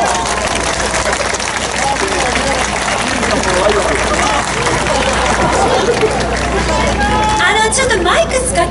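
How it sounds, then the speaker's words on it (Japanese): Festival crowd at the 68th Nagoya Festival's comedy improv contest among samurai performer troupes, a dense steady hubbub of clapping and chatter filling the space, with whistles or voices rising near the end. "拍手。"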